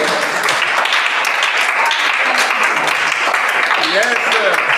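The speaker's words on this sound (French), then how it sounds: "On acclame pour le Seigneur." Sustained applause and cheering from a church congregation during a worship service, a dense continuous wash of clapping with a few voices rising above it.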